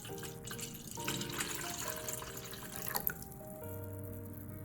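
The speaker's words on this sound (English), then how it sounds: "I will be using raw apple cider vinegar with the mother for this recipe. I add about 3 cups of vinegar." Raw apple cider vinegar pours into a container to make a garlic pickling liquid, a close, continuous trickling splash with a brief clink near the middle and a shift in tone as the vessel fills.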